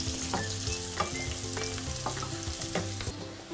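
Red onions and mushrooms frying in olive oil with rosemary, an even close sizzle broken by rhythmic spoon stirs and scrapes against the pan, no voices.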